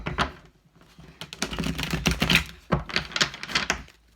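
Rapid, crisp flutters and clicks of cards being shuffled, close up, in several quick bursts with brief pauses between.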